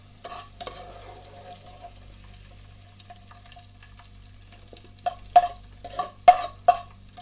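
Bitter gourd sizzles quietly as it fries in a pan, followed by a few sharp scraping and stirring clatters of a utensil near the end.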